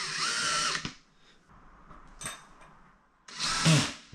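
A cordless drill on a low torque setting whirs in short bursts as it drives screws into pilot holes on an IKEA Malm chest of drawers, close by with quiet gaps between runs.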